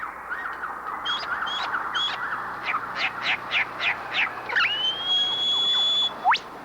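Australian lyrebird mimicking a chorus of birds in a tree-fern understory: a rapid run of varied bright chirps, trills and whistles, then a long sustained whistle ending in a sharp rising note, close and clear over quiet bush ambience.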